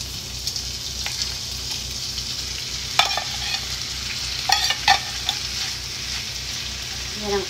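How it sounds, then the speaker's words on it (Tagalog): Corned beef sautéing with onion in a pan for breakfast, a steady close frying sizzle with occasional sharper crackles and stirring clatters, no talk. "Gisa natin ang corned beef sa onion."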